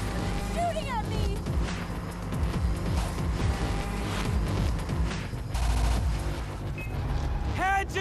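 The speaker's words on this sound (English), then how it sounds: "Shooting at me!" Rapid gunfire from a video game shootout during a vehicle chase, with bursts of shots and engine noise under loud, excited voices shouting throughout.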